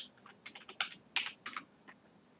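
Rapid bursts of computer keyboard typing while entering text in Photoshop, about a dozen close, crisp keystrokes in uneven clusters over a quiet background.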